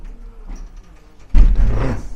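A hotel door in a historic York building bangs open and swings shut, a loud thump followed by rattling mechanism and a brief mechanical rumble, coming after a quiet stretch of soft movement.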